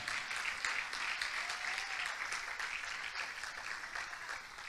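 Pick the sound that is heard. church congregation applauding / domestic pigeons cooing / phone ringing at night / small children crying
church congregation applauding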